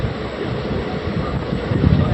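The Tea Garden Express, on its Ernakulam to Thanjavur run, makes a loud, continuous roaring rumble at Walayar station, with no break over the short stretch.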